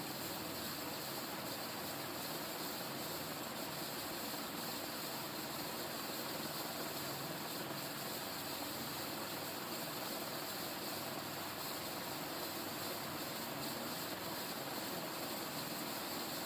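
An industrial ceiling fan spins on high at around 260 RPM, producing a constant, loud, broadband whoosh with no change in pitch or level.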